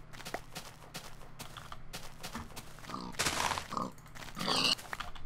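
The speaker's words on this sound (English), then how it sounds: "Pigs make too much noise anyway." Low grunting from a pig in a Minecraft Ultra Hardcore game, several snorting bursts amid clicks and footstep-like taps, with a couple of louder grunts toward the end.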